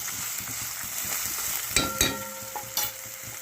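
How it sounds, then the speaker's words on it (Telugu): Tomato chutney ingredients fry in a pan with a steady crackling sizzle, broken by a few louder spatters and scraping stirs near the middle, close and without talk. "బాగా వేగుతున్నాయి"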